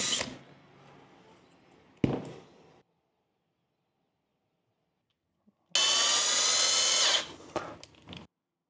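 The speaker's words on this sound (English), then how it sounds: "Let's start winding our coils." Copper wire is wound onto a 3D-printed electric motor stator coil in quiet bursts, with a couple of short rustling passes, a long silent gap, then a louder sustained whirring stretch near the end.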